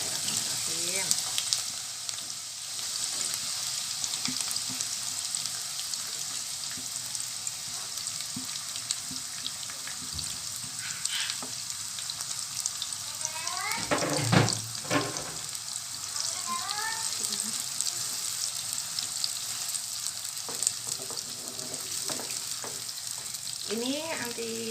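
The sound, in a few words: sliced onion sautéing in hot oil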